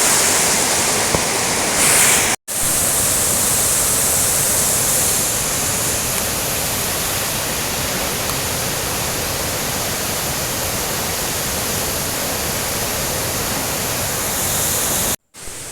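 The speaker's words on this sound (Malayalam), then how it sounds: "ഇതിപ്പോൾ വെള്ളച്ചാട്ടത്തിൻ്റെ ഏറ്റവും താഴെ ഭാഗമാണ് കണ്ടോ ഇവിടുന്ന് മേലേക്ക് പോയാലാണ് ശരിക്കും വെള്ളച്ചാട്ടം ഉള്ളത്" Urulikkund waterfall in Kannur, water tumbling tier by tier down rock steps, heard as a loud, steady, broadband rush close by, broken only by two very brief dropouts.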